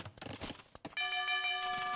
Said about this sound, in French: une cloche aussi